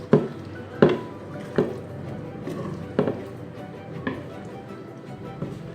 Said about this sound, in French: Ensuite, nous mélangeons le tout.